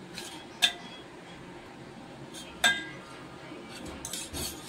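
A spoon clinks against a metal pot twice, with a few softer scrapes, while stirring milk and fine semolina together for a kadai cake; the taps are sharp and close over a quiet room.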